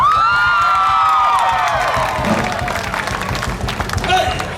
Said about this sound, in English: please give that person a very big round of applause